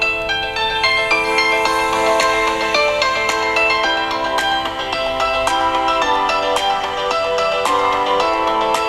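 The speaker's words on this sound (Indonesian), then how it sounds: "Nah, kita dengarkan seperti apa speakernya." A ringtone melody plays loud and steady through the speaker of a Xiaomi Poco X3 NFC gaming phone, bright layered tones with regular note attacks running the full length with no talk.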